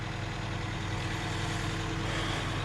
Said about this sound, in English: It's like backfiring like crazy.